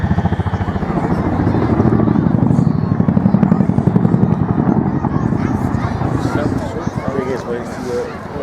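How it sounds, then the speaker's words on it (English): A Boeing Chinook twin-rotor helicopter flies at the Wales National Airshow, its heavy rhythmic rotor thump pulsing loudly and steadily throughout, with a commentator's voice talking over it. "The aircraft being flown today is Zulu Hotel 893, that's the Chinook Flight 4."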